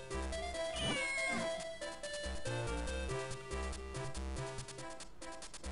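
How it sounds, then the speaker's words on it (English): A cat in the video game Zelda: The Minish Cap gives a rising and falling meow over busy chiptune background music, with no voices. "Is the cat dangerous?"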